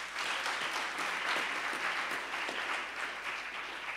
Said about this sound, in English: Let's give everybody, all of us, a big round of applause.